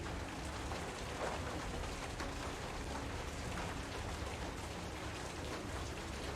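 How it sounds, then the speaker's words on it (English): Heavy rain with wind, a dense continuous hiss of downpour at steady loudness, broadband and unbroken throughout with no voices. "It's just the wind and rain make it difficult to do things."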